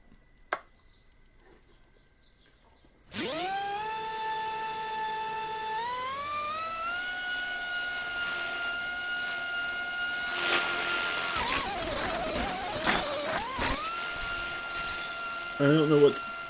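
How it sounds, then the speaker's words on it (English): A simulated R/C helicopter rotor spins up in the RealFlight simulator: after a quiet start, a loud, steady, high-pitched motor whine starts abruptly, climbs in pitch and then holds with slight wavering. "We turn on the rotor."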